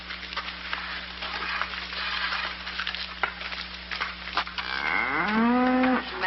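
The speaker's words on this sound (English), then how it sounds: "And look at this big cow." A big cow moos loudly and close at the end, a long drawn-out low call rising and falling. It follows a busy stretch of thumps and scraping background noise.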